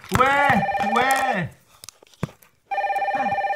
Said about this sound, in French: Le téléphone rouge va encore une fois sonner.